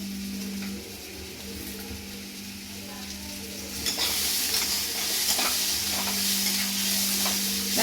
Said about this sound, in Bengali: যেহেতু আলু দিয়েছি না তাই জন্য আর একটু ভালোভাবে চাড়াবো আর নাড়িয়ে চাড়িয়ে